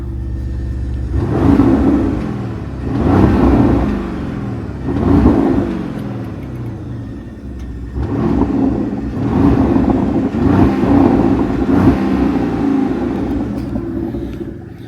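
A 2025 Porsche Cayenne GTS V8 revs repeatedly, with about six deep throaty swells rising and falling every couple of seconds over a steady rumbling idle, loud and close, with no talking.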